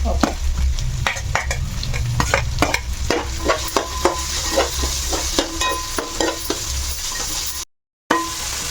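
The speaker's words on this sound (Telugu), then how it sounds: "అవన్నీ కలిపి వేగుతాయి కదా వేసేస్తున్నా ముందు వేగేకి అప్పుడు అది కొంచెం వేగాలి" Onions, carrot, beetroot and peas frying together in a pan, stirred with a utensil that scrapes and taps in a quick uneven rhythm over a loud, close sizzle, with a brief dropout near the end.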